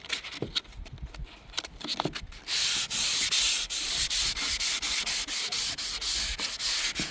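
A sanding block rubs back and forth across a Hummer H1 hood in steady, rhythmic strokes, close and scratchy, with no talking.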